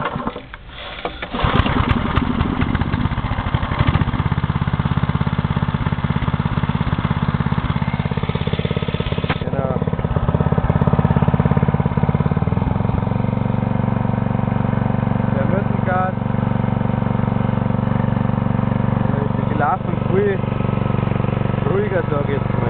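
A Briggs & Stratton 5HP small engine drones steadily near idle, a loud continuous low hum with a brief start-up burst at the beginning and a slight shift in pitch partway through.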